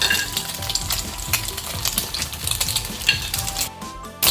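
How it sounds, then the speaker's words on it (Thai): Japanese rice is stir-fried in a pan, a continuous close sizzle broken by spatula scrapes and clinks against the metal as the grains are tossed. "ใส่ข้าวญี่ปุ่นไปนะคะ เราก็ผัดให้เข้ากัน"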